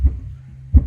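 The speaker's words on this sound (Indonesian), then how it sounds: "kalau kita lepas di tombolnya ini bunyi sub saja ya" Two deep, boomy low-frequency thumps from a subwoofer playing alone, spaced under a second apart, with little else besides a faint low hum.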